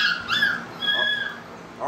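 High, thin puppy yips and whimpers come in short overlapping bursts, fairly close, with a brief cry at the very end.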